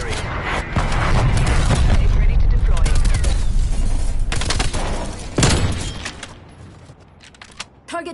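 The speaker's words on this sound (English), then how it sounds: "Artillery targeting detected. Death call. Incoming artillery." An incoming artillery barrage in a video game pounds down as a dense, loud stretch of rumbling blasts and crackling impacts, then one sharp boom before the noise thins out, with a synthetic announcer voice over it.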